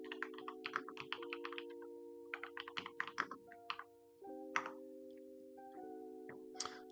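Rapid typing on a Yunzi B75 Pro keyboard: a dense run of crisp, close clicks in uneven bursts with short pauses, over quiet, steady background music.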